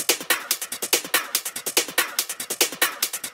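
Original Vengeance club sample loop playing alone: a fast, steady rhythmic pattern of sharp, bright percussive hits pulsing evenly throughout, fairly quiet and with little low end.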